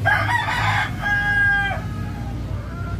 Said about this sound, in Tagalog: So ito po yung mga brood hen natin.